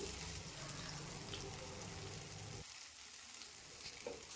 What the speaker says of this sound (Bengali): এখানে আমি খুব অল্প পরিমাণ তেল দিয়ে বড়াগুলো ভেজে নিচ্ছি